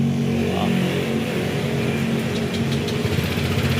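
Honda Click 150i scooter engine idling steadily up close during a TPS sensor check, a continuous low mechanical hum with faint ticking above it and no speech.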